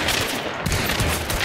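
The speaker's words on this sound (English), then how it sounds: "They're shooting at us." Gunfire during a Hunt: Showdown match: loud, dense bursts of shots crackle without pause through a short burst of action.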